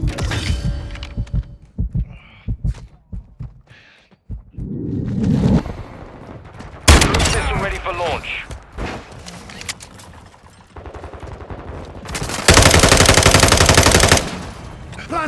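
Bursts of automatic and single gunfire in Call of Duty: Modern Warfare II, loud and close, scattered across a chaotic firefight with whooshes and a sustained harsh roar near the end.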